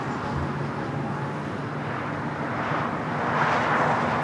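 An Airbus A320neo airliner taking off at LAX, a continuous wide roar of engine noise that swells slightly toward the end, heard at a distance without talk.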